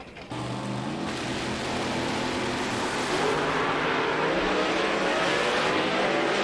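Muscle cars drag racing on an NMCA racetrack during a final round, a loud continuous engine roar that swells and holds steady as the cars pull away toward the top end, with no talk over it.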